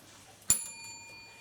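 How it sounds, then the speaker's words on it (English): A single bright bell strike rings out once as the one-minute warning in a primary school debate, then fades in a long, clean tone in a quiet room. "A single warning bell will be sound 1 minute"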